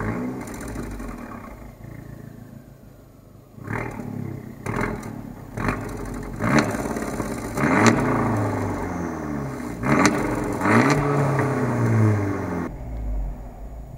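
An Abarth 124 Spider's four-cylinder engine starts and revs in several sharp bursts, settling into a throaty idle between blips, loud and close with no talking.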